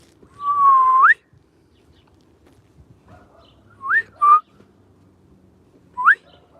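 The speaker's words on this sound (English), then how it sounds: "let me try the whistle thing again" A person whistles loudly to call dogs outdoors: one long rising whistle, then a quick pair of short rising whistles, and after a pause a single short one, each clear and alone against near silence.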